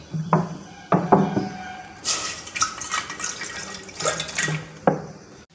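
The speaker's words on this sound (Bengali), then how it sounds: "হাঁড়িতে একটু জল দেবো।" Water poured into a cooking pot in a home kitchen, to be boiled for kneading roti dough: close, intermittent splashes and drips with two longer gushing bursts, no talking.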